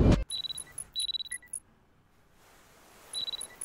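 An alarm in the horror game Parasocial beeps in quick repeated bursts, a high electronic chirp pattern that pauses briefly and then starts again, clear and up front.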